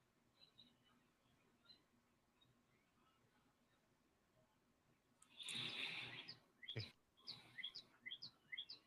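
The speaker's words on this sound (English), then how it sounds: "I'm hearing birds in the background" Faint bird chirps scattered across a quiet background, broken by a sudden burst of rustling noise before the chirping resumes.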